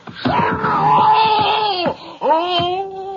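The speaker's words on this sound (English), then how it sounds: "Try to make all your screams like that last one" A man screams in a 1949 radio crime drama, two long, loud, strained wails close to the mic, the first rising and held, the second shorter after a brief gasp.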